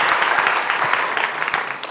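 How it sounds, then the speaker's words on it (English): An audience at a startup pitch demonstration event gives a brief round of applause, a steady patter of many hands clapping fairly close for about two seconds. "let's give him a round of applause again"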